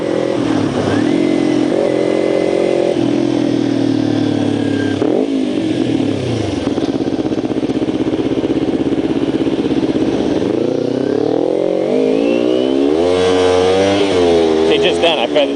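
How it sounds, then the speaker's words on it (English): A Kawasaki Ninja 250 pulls away from a stop with a feathered clutch, its engine droning loudly and close, then revs climb sharply into a high-pitched scream near the end. "the engine's kind of struggling, and the next second it's screaming because I pull the clutch in as I give it the gas."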